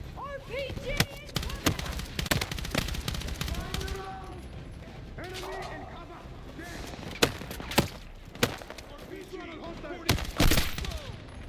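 Bursts of gunfire from a Battlefield 6 campaign battle, sharp repeated shots and short volleys scattered across the clip, loud and close, with shouted voices and battlefield commotion between them.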